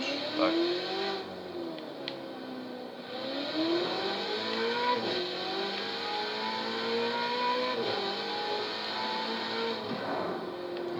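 A Ferrari 488 GTB engine pulls while driving, its pitch climbing and dropping through several gear changes in a steady, close, continuous drone with no talking.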